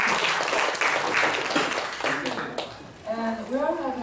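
Audience applause for a linguistics lecturer at the end of a lecture, a dense patter of clapping that thins out, with a voice talking over the final seconds.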